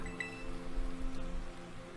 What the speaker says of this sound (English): With rain on top of it, too. Make it more depressing as it needs to be.